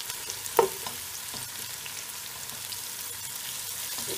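Onions sautéing with a sprinkle of salt for Malabar mutton kuruma, a soft, even frying hiss with a single clunk of a spoon against the pan early on, quiet and without talk.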